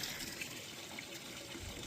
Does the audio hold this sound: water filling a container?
yes